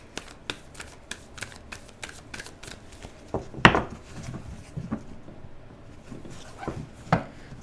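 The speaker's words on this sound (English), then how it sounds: "Let's give this a shuffle with the Tower." A deck of tarot cards is shuffled by hand up close. Quick riffling bursts come in a loose rhythm, with a few sharper taps and knocks mixed in, and no talking.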